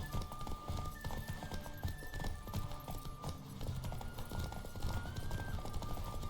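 Rapid, rhythmic hoofbeats of a galloping horse in the video game The Witcher 3 pound continuously, with a faint whinny and some background sound effects mixed in.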